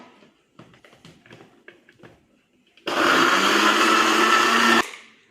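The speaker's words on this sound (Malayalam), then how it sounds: "മിക്സി അടയ്ക്കുന്നു" A mixer grinder blends juice with water and ice. After a few light clinks and knocks, the motor roars to life and holds a loud, steady whir for about two seconds, then cuts off abruptly.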